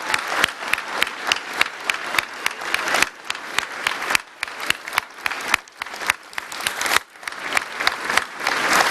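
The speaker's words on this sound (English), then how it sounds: "So would you please applaud the Premier?" A crowd at a 2012 Queensland election event applauds the Premier, a long run of sharp, close individual claps in uneven bursts with brief pauses.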